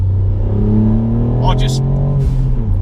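A modified MK8 Ford Fiesta ST pulls hard on a wet road, its engine note climbing steadily in pitch as it accelerates, heard from inside the car while the driver talks over it.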